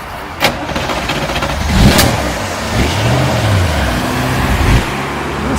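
An old vintage car engine at a classic vehicle gathering on the Great North Road revs up and settles, its low throaty note rising and falling in loud, close swells with no talk.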